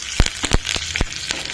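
Curry leaves drop into hot tempering oil with seeds and garlic, giving a steady close hiss broken by several sharp crackling pops.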